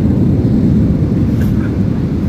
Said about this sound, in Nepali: अहिले चाहिँ हाम्रो प्लेन ल्यान्डिङ गरेको भर्खर, अहिले चाहिँ हिँडिरहेको छ